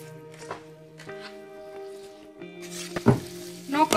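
A spoon stirring food sizzling in a pan as turmeric powder is mixed in, steady soft frying hiss with scraping strokes growing louder toward the end, close, alongside tonal background music.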